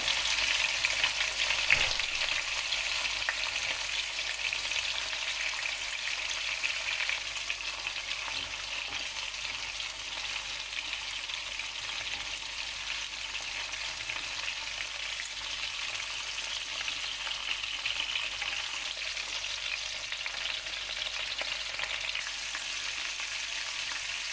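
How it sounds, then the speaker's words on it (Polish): Pork shoulder sears in a hot pan, giving a steady, dense sizzle that holds without pause for the whole stretch. It is close and fairly loud, with no voices. "I teraz będziemy obsmażać mięso z każdej strony na złoty kolor."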